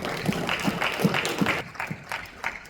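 A small gathering at a French-language religious talk gives a brief round of clapping, a few distinct claps in steady rhythm before the sound thins and fades.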